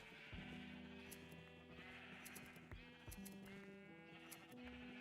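Overlapping bleats from a flock of sheep in the video game Minecraft repeat in quick succession, near and constant, with no voices heard.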